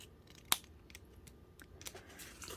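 Scissors trimming paper glue flaps on a file folder journal pocket, one sharp close snip followed by faint paper rustling and light handling sounds; quiet, no talking.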